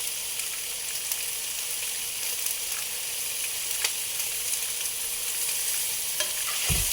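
Hot dogs sizzle on a hot cooking surface, a steady close frying hiss with scattered pops and a faint thump near the end, no speech.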